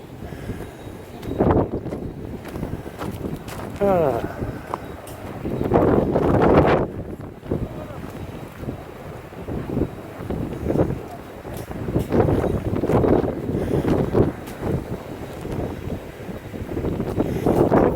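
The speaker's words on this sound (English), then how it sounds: "The steady wind is 55, the peak is 70." Strong mountain wind on the Appalachian Trail, steady around 55 with gusts to 70, roars and buffets the microphone continuously, rising and falling in loud gusts throughout.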